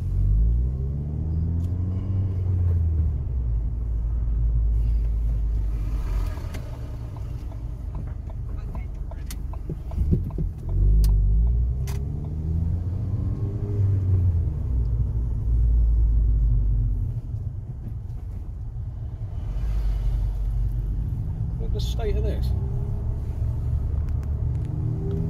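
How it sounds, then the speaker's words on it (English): Car engine rumble and road noise from inside the cabin while driving past a Tesco, a steady low drone with a few rises in engine tone, with voices talking over it throughout. "I'll drive past this Tesco so you can take a quick look"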